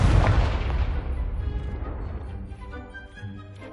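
Confringo blasting spell from Hogwarts Legacy, game explosion: a loud booming burst at the start that rolls off into a long decaying rumble with scattered debris crackle, no voices.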